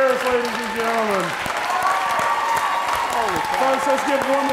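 Sustained applause from the crowd at a bar association awards ceremony, dense and steady under a speaking voice.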